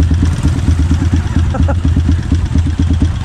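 Several motorcycle engines idle close by with a steady, loping pulse, the chugging beats repeating evenly under a layer of clatter.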